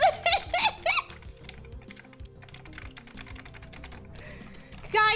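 Computer keyboard keys are pressed in quick irregular clatters, up close and fairly soft, during a game stream, with brief bursts of voice at the start and end.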